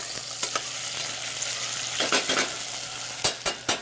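Pork seasoned with kosher salt and coarse pepper sizzles steadily as it caramelizes in a pan for ragu, with sharp utensil scrapes and clanks against the pan, several bunched near the end.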